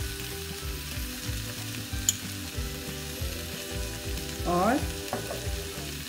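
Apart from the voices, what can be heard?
sautéing vegetables for fried rice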